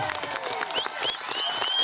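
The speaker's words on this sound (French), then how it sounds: "Allez, on applaudit s'il vous plaît." Crowd applause at a ceremony for Hienghène Sport, New Caledonia Super Ligue champions, dense clapping with some cheering under a faint announcer's voice and whistle-like tones, steady and moderately loud throughout.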